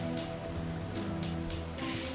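Rain pours in the video game Rain World Downpour as a dense, even hiss of drops striking surfaces, heard alone and quite faint, with no voices and no breaks.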